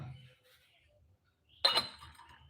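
A small clay teapot's lid clinks once, a bright close ceramic knock with a short ringing tail after a quiet pause.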